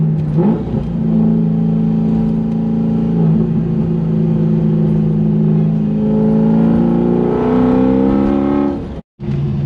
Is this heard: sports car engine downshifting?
yes